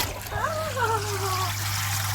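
Water splashes and trickles at a koi pond over a steady low hum, with a few brief voice-like sounds in the background.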